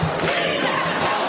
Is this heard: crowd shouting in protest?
yes